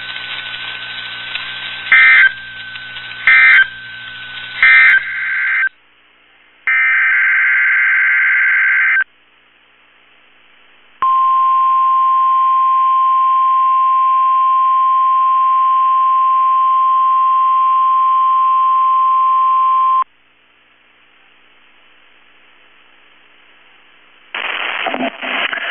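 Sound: NOAA Weather Radio EAS warning alarm tone

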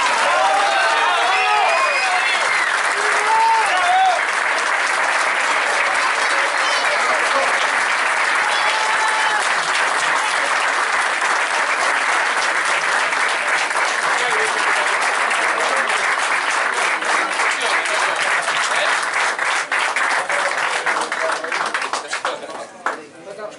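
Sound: audience applause

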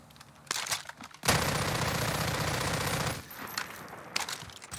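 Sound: gunfire emptying a weapon's bullets in video game Warzone

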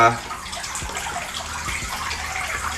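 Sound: squeezing water out of wet sphagnum moss

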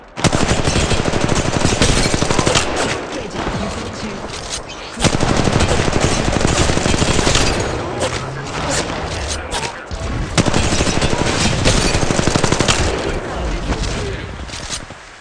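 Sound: gunfire in Apex Legends Mobile video game

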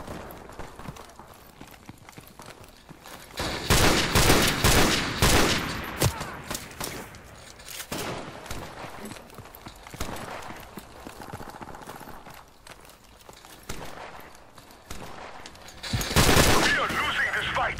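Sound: rapid-fire rifle gunfire in Call of Duty Modern Warfare Remastered video game

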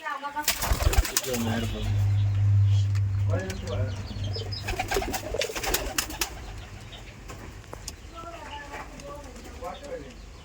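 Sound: pigeons cooing at a pigeon farm

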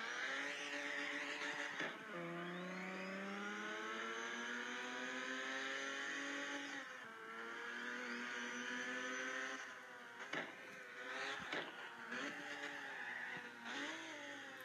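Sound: car engine revving hard

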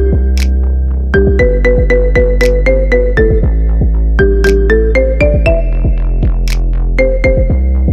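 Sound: marimba remix ringtone

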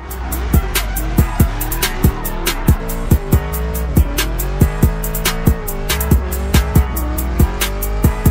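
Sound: car doing a skid, tires squealing

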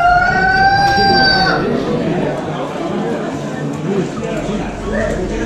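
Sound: chickens clucking at a livestock fair

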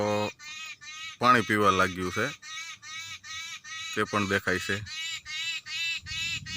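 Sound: birds chirping

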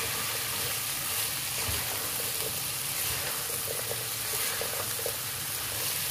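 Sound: okra frying and being stirred on high heat

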